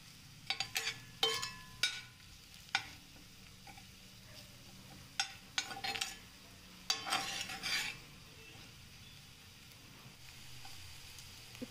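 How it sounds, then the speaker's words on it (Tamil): Mutton pieces sauté in a pan with turmeric, chili powder, garam masala and coriander powder, giving a low, steady sizzle. Spatula scrapes and clatters come in irregular bursts, loudest early on, then the sizzle continues alone. "தேவைக்கு மஞ்சத்தூள், மிளகாய்த்தூள், கொஞ்சம் கரம் மசாலா, தனியாத்தூள் எல்லாம் போட்டு நல்லா வதக்கிக்கோங்க."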